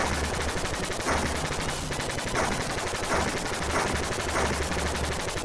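Continuous rapid-fire shooting in the arcade shooter Raiden, with turbo fire on both shoot buttons, sounds as a steady, evenly pulsing stream of shots under busy game effects, unbroken throughout.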